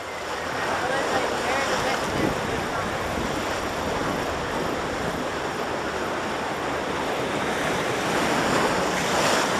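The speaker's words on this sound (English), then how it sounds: "Whoa, these are rough. Some rough rapids." Rough rapids on a theme park water ride at Six Flags Fiesta Texas churn loudly and steadily, a continuous wash of rushing, splashing water with wind buffeting the microphone throughout.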